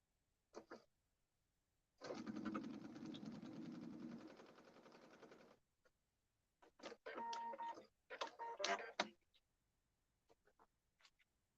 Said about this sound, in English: And then we are going to sew on this line.